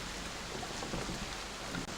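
Heavy rain pours in a video game scene along a road, a dense, steady wash of hiss that stays even and fairly faint for a couple of seconds, with no voices.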